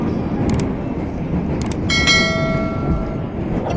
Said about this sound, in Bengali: ওই তো ট্রেন ছাড়ছে